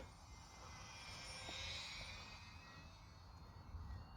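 A small UMX Twin Otter twin-motor RC model airplane buzzes overhead, a faint, thin electric whine that swells slightly as it passes, over light background noise with no speech.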